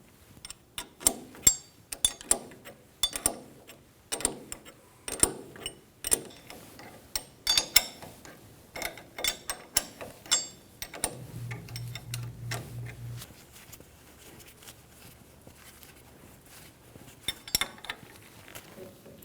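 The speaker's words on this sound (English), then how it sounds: "We're going to go around snugging these down with a 17mm wrench in a cross pattern" A ratcheting 17mm wrench clicks in quick bursts as hub bolts are snugged down on a Toyota Tacoma's steering knuckle, close metallic ticks with pauses between bolts and a brief low hum midway.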